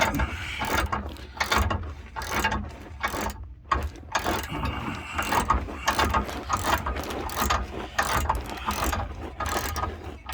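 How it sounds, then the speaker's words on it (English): A half-inch ratchet turning an inch socket on a 1995 Chevrolet Silverado torsion key, dense rapid clicking strokes in a continuous rhythm, close and loud, with no talking. "It's a 1/2 inch ratchet."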